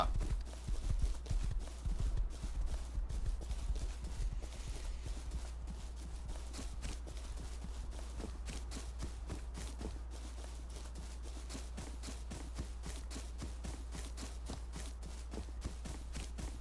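A horse in the survival video game Rust walks along with a steady, even clip-clop of hooves over a constant low rumble, close and continuous throughout, with no talking.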